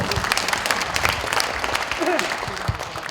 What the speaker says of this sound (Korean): 광양시 부시장을 2번이나 역임하신 우리 이계호 국회의원께 다시 한번 큰 박수 부탁드리겠습니다